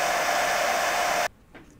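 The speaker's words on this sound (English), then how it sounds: "So now to speed things up, I'm going to get the hairdryer." A hair dryer blows with a loud, steady whine and rush of air, then cuts off abruptly, leaving near silence.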